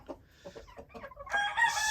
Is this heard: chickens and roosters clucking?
yes